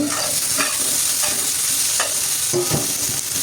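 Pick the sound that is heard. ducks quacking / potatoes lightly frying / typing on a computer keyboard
potatoes lightly frying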